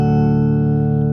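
A guitar chord run through a Micro POG polyphonic octave generator pedal, stacking octaves above and below each note into a thick, steady, sustained organ-like tone held close and loud.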